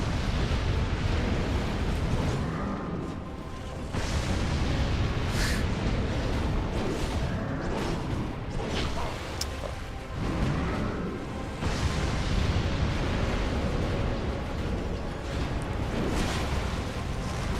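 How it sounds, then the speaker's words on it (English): In Dark Souls 2, a Forbidden Sun fire spell explodes in heavy, rumbling blasts, with dense, booming bursts repeating across a loud, sustained roar of combat noise and no voices. "when the Forbidden Sun explodes"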